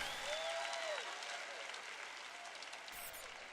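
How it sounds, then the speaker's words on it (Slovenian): An audience claps in applause for David, a steady wash of faint, somewhat distant clapping lasting a few seconds, with a brief tonal voice-like sound early on. "Zaploskajte Davidu."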